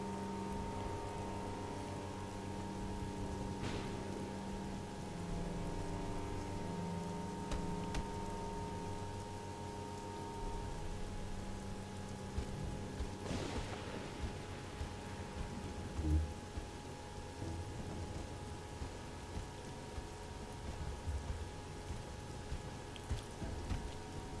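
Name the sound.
rain falling in video game Of Orcs and Men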